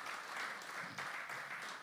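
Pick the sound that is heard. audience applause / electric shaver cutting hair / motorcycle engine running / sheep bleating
audience applause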